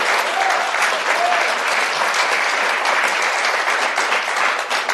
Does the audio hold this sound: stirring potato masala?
no